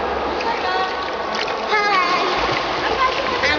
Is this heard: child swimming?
yes